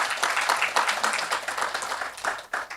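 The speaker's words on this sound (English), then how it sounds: "I think that deserves a round of applause." Symposium audience in a hall, a steady patter of many hands clapping at once, dense and continuous, moderately loud, fading slightly toward the end with no one speaking over it.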